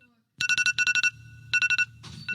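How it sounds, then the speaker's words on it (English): A phone ringtone sounds close by in repeated groups of rapid bright electronic pulses, separated by short pauses, with a faint rumble of background sound between the bursts. "It is your phone."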